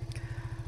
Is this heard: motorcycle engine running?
yes